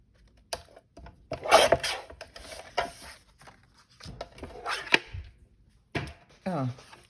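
Card being chopped to 3 inches with a paper trimmer while making a concertina tag holder: several sharp, close cutting strokes and handling noises, with a voice talking between them.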